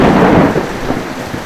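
Heavy rain pours down in a loud, dense roar with deep rumbling underneath, steady and close, with no one speaking.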